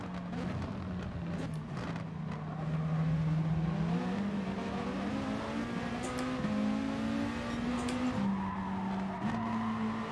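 A Peugeot race car in Gran Turismo Sport revs steadily near at hand, its engine tone climbing and shifting through gears with brief tire squeal, continuous for the whole stretch.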